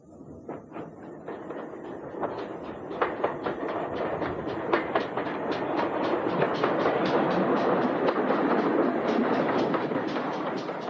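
A train rumbling along rails through the Devon countryside near Churston, with a steady rapid clickety-clack that grows louder and denser, no voices.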